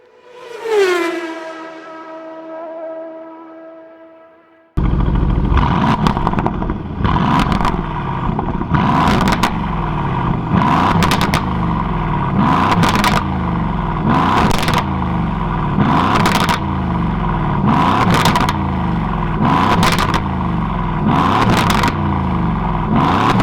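An Aston Martin Vantage engine starts with a loud bark that settles briefly, then revs hard in a rapid series of repeated throttle blips, loud and close, with no talking.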